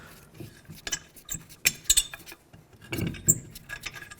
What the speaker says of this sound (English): Now you can take this lug nut off.